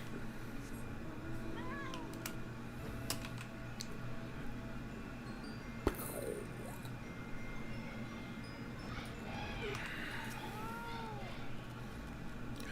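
Several short, high cat meows in the video game Final Fantasy XIV come and go over a steady low ambient hum, with a sharp click partway through.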